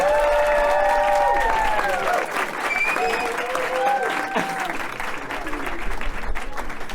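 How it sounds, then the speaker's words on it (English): An audience at an LGBTQ+ storytelling night breaks into loud, sustained applause with cheers, while voices call out over the clapping throughout. "Round of applause for gender non-binaries!"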